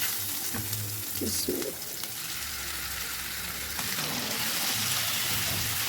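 Around 500 grams of washed chicken mince fries in a pan with a continuous close sizzle, joined by a few soft stirring and scraping sounds.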